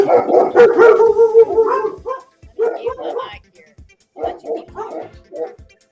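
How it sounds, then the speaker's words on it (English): Several dogs at a Texas beekeeper's home barking and yipping in short bursts, close and loud, with people talking over the barks. "while I go see what's going on with the dogs"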